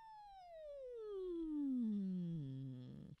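A singer's voice imitating a siren as a vocal warm-up, one smooth sustained glide sliding from a high pitch steadily down to a low note, fairly quiet and alone, breaking off at the end.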